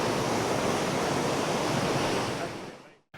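Adrenaline Falls waterfall during a rain shower, a loud, steady broadband rush of falling water that holds constant and close before cutting off near the end, with no voices.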